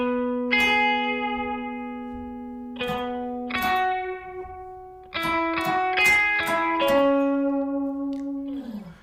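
Bass guitar picks out both interlocking parts of the worship song Way Maker, sustained ringing notes struck in clusters with reverb and slowly decaying tails, played alone without voices.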